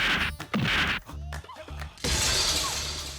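A car's window glass is smashed: a few sharp whacks and crunches, then a loud, bright shattering burst that spills on with glittering debris.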